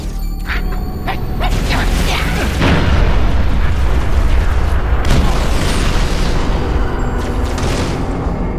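An artillery barrage rains down in Halo Reach, heavy booms and rumbling impacts rolling on continuously at high volume with mechanical clatter mixed in.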